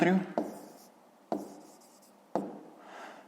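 Pen writing by hand on paper during a Grade 5 maths exercise, three short scratchy strokes each starting sharply and trailing off, close and quiet with no talk.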